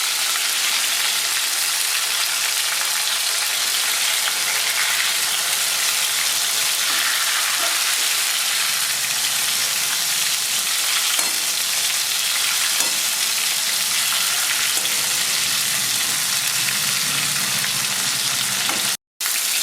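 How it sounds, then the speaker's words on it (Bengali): Stuffed pointed gourd frying in oil gives a steady, loud sizzle and crackle that fills the whole stretch without a break, ending with a brief dropout near the close. "পাশ হয়ে গেছে পটল ভাজা আমি অন্য পাশটা ঘুরিয়ে দিচ্ছি"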